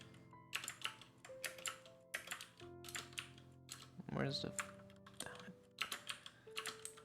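Typing on a computer keyboard during a game development stream. Bursts of clicking keystrokes come near and quiet and stop and start unevenly, while someone talks softly in between.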